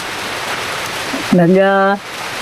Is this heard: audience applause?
no